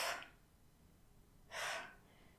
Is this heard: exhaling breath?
yes